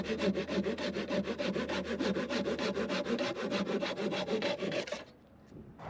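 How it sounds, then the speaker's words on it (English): A handsaw cuts through the ends of wooden bridge boards to trim them flush, producing a close, loud, rhythmic rasp of about thirty quick strokes before stopping abruptly into near silence. "To trim these ends flush, I figured it'd just be easier to use a handsaw"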